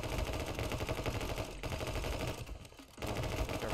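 Rapid, sustained gunfire from the side-scrolling action game My Friend Pedro, a dense barrage of shots that drops briefly into a short lull before the firing resumes at full intensity.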